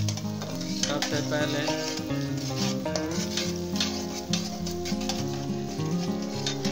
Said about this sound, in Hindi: और हम ये प्याज को फ्राई कर लेंगे